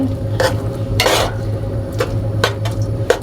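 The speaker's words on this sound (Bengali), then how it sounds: "লবণটাও দিয়েছি তো ঘিয়ের ভিতরে এভাবে নাড়াচাড়া দিয়ে নিতে হবে" Chickpea halwa with salt is stirred in ghee in a pan, a spoon scraping and clinking against the metal in several distinct strokes over a low, steady background hum, close and clear, no talking.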